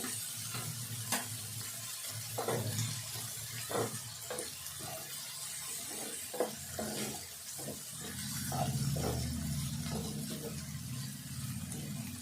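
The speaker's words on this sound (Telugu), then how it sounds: "ఇదంతా వేగాలి మిర్చి ఇంకా కొద్దిగా సేపు కూడా వేగాలి" Onion and green chillies fry in a pan for a flat bean and tomato curry. A steady low sizzle runs throughout, broken by intermittent scrapes and clicks of stirring, with no voices.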